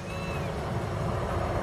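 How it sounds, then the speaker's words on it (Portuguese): A bus accelerates on the Anhanguera highway with a loud, continuous close engine and road roar that holds steady throughout. "Olha a máquina acelerando aqui."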